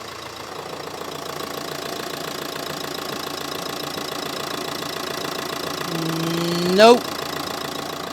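A Renault Scenic 1.5 dCi diesel engine idles steadily close by, a continuous even clatter and hum that builds slightly before a brief louder rev near the end; a voice speaks one short word.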